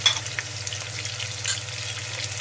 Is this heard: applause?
no